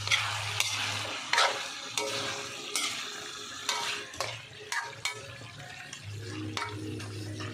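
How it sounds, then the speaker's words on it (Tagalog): Pork binagoongan simmering and being stirred in a pan, a steady sizzle broken by repeated scraping strokes of the spoon at irregular intervals, close and fairly quiet with no talk. "tignan natin ang ating nilulutong binagoongan"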